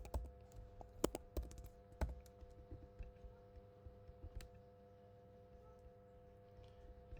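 Quiet clicking of computer keys typing in short irregular bursts, with a few sharper keystrokes early on and softer taps trailing off, close by with a faint steady electronic hum beneath.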